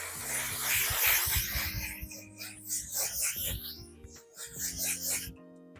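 A makeup setting spray is misted onto a face in several short, close hissing bursts, with pauses between them.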